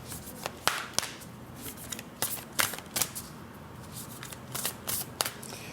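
Black Moon Astrology tarot cards shuffled and drawn by hand, a run of crisp riffling snaps and soft slides repeating irregularly, close and fairly quiet with no talk.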